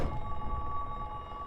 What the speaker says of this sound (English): that's the phone call